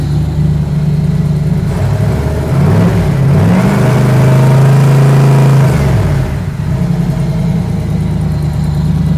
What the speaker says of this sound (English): This system holds the idle better. Yeah. That's cool. It's still loud even with the muffler.